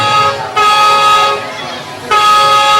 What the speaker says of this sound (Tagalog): Busina ni Lola yun.